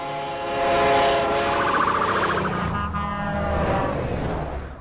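A train passes by with a sustained horn-like tone that swells and slightly shifts over a broad rumbling roar, fading toward the end.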